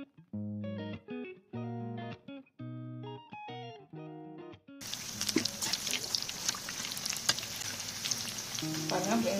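Battered onion pakoda and plantain bajji dropped into hot oil, a dense bubbling sizzle that follows a few seconds of music and continues loud to the end.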